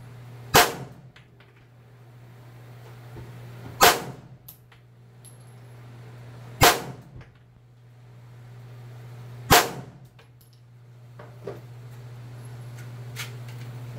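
Suppressed .22 LR rifle fire with CCI subsonic ammunition: four sharp, clean cracks spaced about three seconds apart, each with a short decay, plus a couple of fainter pops, outdoors with no talking.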